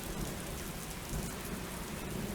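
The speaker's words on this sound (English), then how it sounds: "It's pouring rain." Heavy rain pours down steadily, a dense, even wash of drops close by with low rumbling beneath and no break across the whole stretch.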